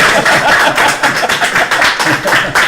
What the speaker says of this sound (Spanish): vamos a dar un aplauso a nuestros 3 candidatos espectaculares